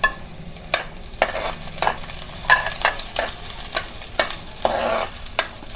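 Onion and bird's eye chili frying in a pan for pork belly adobo, a steady close sizzle broken by repeated sharp scraping stirs of a utensil against the pan.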